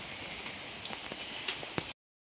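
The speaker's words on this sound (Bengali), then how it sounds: "এই যে দেখেন বাইরে এখন ঝিরি ঝিরি বৃষ্টি চলতেছে" A light drizzle falls outdoors, a faint, even hiss with a few scattered drops tapping nearby before it cuts off.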